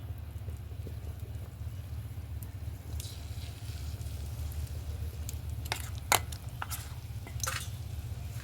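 Small pumpkin flower fritters frying in hot oil give a steady, close crackling sizzle throughout, with a few sharper clicks and scrapes of a spoon against the pan near the end.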